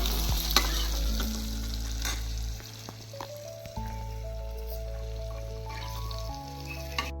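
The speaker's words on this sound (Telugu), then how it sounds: "ఆనియన్స్ లైట్గా కొంచెం వేగిన తర్వాత మనం మిగతా వేసేసుకుందాం" Onions frying in a pan for a fenugreek-tamarind stew, a dense continuous sizzle with stirring scrapes, loud and close for about seven seconds without talk.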